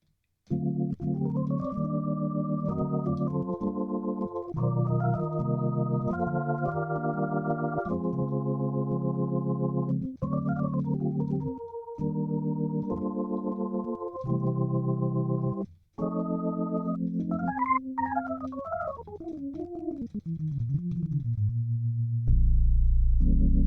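Sustained electronic organ chords from a Korg Kronos synthesizer play continuously with shifting notes, a brief pitch-bending passage near the end, and faint built-in key clicks at note onsets.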